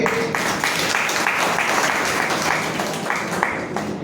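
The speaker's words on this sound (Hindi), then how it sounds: "जिन्हें समझ में आ रहा है ताली बजा रहे हैं।" Audience clapping during a Hindi religious discourse on scripture study, a loud, dense burst of many hands applauding continuously from nearby, briefly swelling and thinning toward the end.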